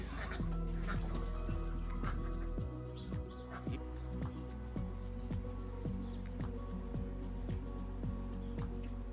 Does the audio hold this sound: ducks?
yes